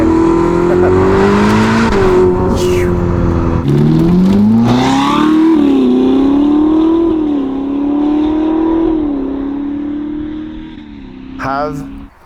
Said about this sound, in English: The exhaust system from Novitec for this car, giving it some soul